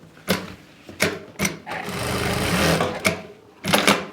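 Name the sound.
sewing machine stitching a farshi salwar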